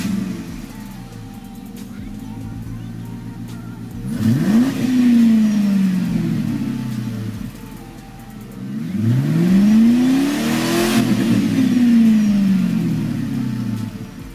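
A 1996 Ford Mustang GT with a MagnaFlow dual exhaust revs twice from idle, each rev a rising then falling deep engine roar heard up close over a steady rumbling idle.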